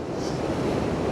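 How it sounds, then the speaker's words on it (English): Ocean surf washing against a rocky shoreline, a steady rushing roar of water with wind noise on the microphone, close and continuous for about a second. "looks like a large wave coming"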